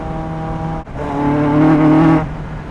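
A Caterham CSR sports car accelerates hard on a damp track, its engine note rising loud and close in a sharp surge, a brief gear-change dip, then a climbing rev before easing off.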